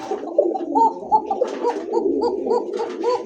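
A coka pigeon coos close by in a quick, regular series of soft throaty gurgling notes, about one every third of a second.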